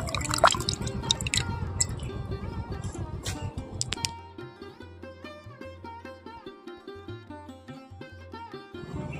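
Water drips and trickles from a batch of washed neem flowers as they are lifted out of a bowl, a dense splashy patter at first that thins to sparse, rhythmic drops.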